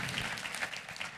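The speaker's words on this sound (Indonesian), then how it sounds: "kita kasih tepuk tangannya yang meriah buat Tuhan kita" A church congregation claps for God during a sermon: a brief, even wash of crowd applause with no break and no voices.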